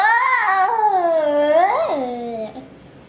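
A human voice imitates a cat with a long, drawn-out wavering meow that rises, dips and fades, close and clear with no other sound.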